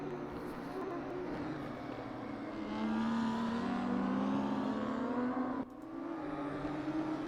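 A BMW 235i racing car engine at Knutstorp Ring in the R3E racing game drones loudly and continuously, its pitch climbing and dipping as it revs, with a brief dip before picking back up.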